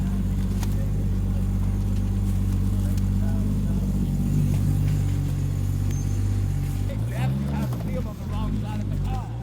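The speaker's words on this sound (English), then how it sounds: "Hitting the shifter there, Benny." A car engine revs and rumbles loudly during Drag Week, then surges as the driver hits the shifter near the end, and a voice talks over it.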